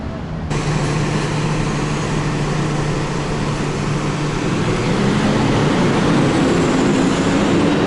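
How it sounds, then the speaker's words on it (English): A driverless monorail train rumbles past close by with a steady roar and a faint rising whine, loud and continuous throughout. "This is the train without a driver, yeah?"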